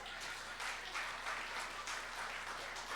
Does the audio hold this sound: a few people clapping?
yes